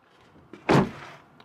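One solid, muffled thunk as the door of a 2026 Toyota 4Runner TrailHunter SUV swings shut, short and close, preceded by a faint click of the handle.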